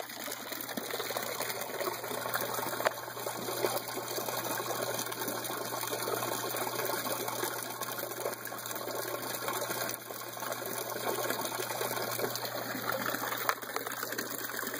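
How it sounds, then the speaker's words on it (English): A thin stream of water trickles steadily from an aquarium siphon overflow, a continuous low gurgling wash with no pauses and no voices. "you can see I have just a very small amount of water coming out of here"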